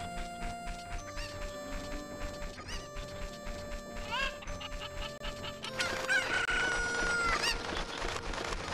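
Chickens cluck and crow in The Legend of Zelda: Ocarina of Time, with game music and effects running underneath as the clucks and a drawn-out crow grow louder toward the end.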